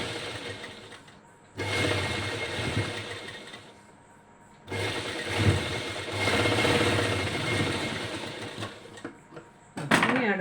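A sewing machine stitching a sleeveless top runs in two long bursts of rapid, steady whirring, each lasting a few seconds with a quiet pause between them and a brief final spurt at the end.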